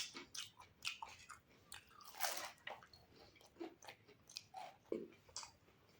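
Samosas, also called singhara, are eaten fast in a timed eating challenge, with repeated close crunching and chewing bites in an irregular, hurried rhythm and no talk.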